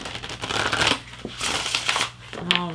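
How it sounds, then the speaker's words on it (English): Spirit of the Animals oracle cards being shuffled by hand, a soft papery riffling and sliding in a few short bursts, close and fairly quiet. "Just need to shuffle this up a little bit better."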